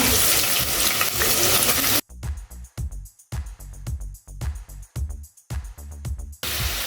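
Green chili and onion sizzle in hot oil in a pan, a loud continuous fry at first that breaks into bursts of crackling and stirring scrapes with brief pauses between them, heard alone without talk.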